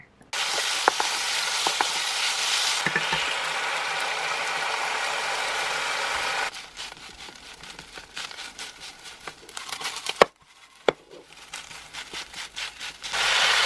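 Kimchi fried rice with pork, green onion and seasonings sizzles loudly in a hot pan, with scraping stir strokes; the sizzle drops to a quieter crackle midway, pauses briefly, then returns.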